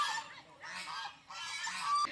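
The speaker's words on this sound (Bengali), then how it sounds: "আর এই রাজহাঁসগুলো এতটাই না, কিরকম কামড়াতে চলে আসে।" Geese give loud, close, nasal honks in three drawn-out calls, one after another with short gaps between them.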